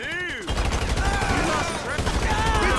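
Rapid gunfire from GTA Online survival mode crackles in dense, overlapping bursts, loud and close, almost continuous across the moment, with a voice briefly audible at the start.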